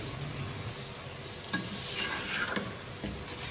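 Marinated chicken frying in a pan with masala spices while a spoon stirs it, giving a soft steady sizzle and a few sharp scrapes and clinks of the utensil against the pan. No one speaks.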